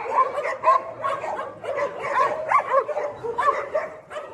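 Dogs at a mountain shelter for strays bark and yip in quick repeated bursts while playing with puppies and children, the sharp calls coming close and lively over a noisy background.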